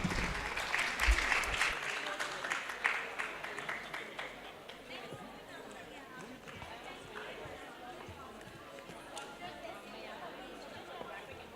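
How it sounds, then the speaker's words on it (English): Applause from a conference audience for the panelists at a corpus linguistics and emerging technologies event at Bahria University, a dense wash of clapping in a hall that is strongest at the start and then fades to a steady patter. "Please join us in acknowledging their contributions with a warm round of applause."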